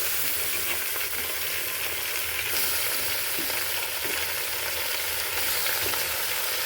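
Beef fries in mustard oil in a pot, producing a constant close, hissing sizzle that runs evenly throughout with faint stirring beneath.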